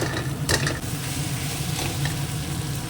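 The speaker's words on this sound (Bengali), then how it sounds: "একদম লাল করে ভাজা হয়ে গেছে সুন্দর করে" Spice paste with chilli powder, sugar and coriander frying in a pan, a steady close sizzle with scraping and stirring clatter from a utensil.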